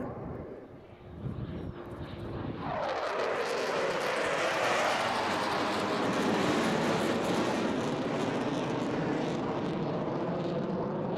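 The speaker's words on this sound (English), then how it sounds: "coming in from the left-hand side now, please welcome Turbo in the mighty Typhoon" A Eurofighter Typhoon fighter jet arrives at the Eastbourne air show with a roar that swells quickly from a quieter start into a loud, sustained, tearing blast. The sound sweeps past overhead with a falling pitch and stays powerful to the end.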